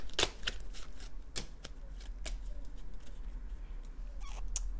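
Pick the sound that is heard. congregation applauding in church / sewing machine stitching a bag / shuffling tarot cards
shuffling tarot cards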